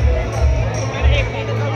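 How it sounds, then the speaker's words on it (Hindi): A crowd mills about the photo ground at the Solan Shoolini fair, a dense babble of many voices heard close by, brief and continuous, with a nearer voice talking over it. "फोटो ग्राउंड में भीड़, चेक करो गाइस।"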